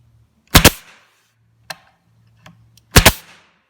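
Staple gun firing staples into a wooden cabinet during assembly: two loud, sharp snapping shots about two seconds apart, with a few small ticks and knocks between them.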